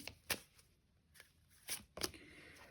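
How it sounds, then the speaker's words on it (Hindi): Tarot cards shuffled and drawn from a deck, a few quiet riffling flicks and soft slaps spaced apart, close and faint against a near-silent room. "1-2 कार्ड्स इसमें से भी ले लेते हैं आपके लिए"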